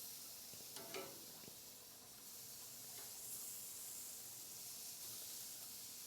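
Honey BBQ pork chops sear over charcoal flames with a faint, steady hiss and sizzle, broken by a few soft pops and crackles near the start.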